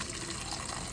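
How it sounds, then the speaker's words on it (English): Water streams steadily from the dispenser of a GE Profile refrigerator into a cup after a broken water line was fixed, a close, continuous soft gushing fill with no voices. "I want to show you the water coming out the thing where it wasn't coming."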